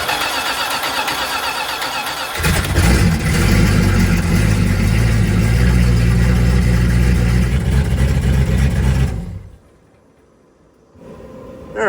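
A turbocharged RV engine cranks, catches and runs at a loud, steady rumble for several seconds close by, then cuts off into near quiet before a brief sound at the end.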